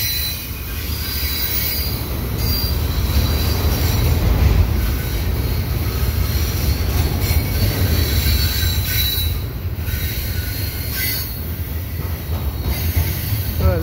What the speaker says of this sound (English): Squealing around the corner. And it takes the curve onto the bridge.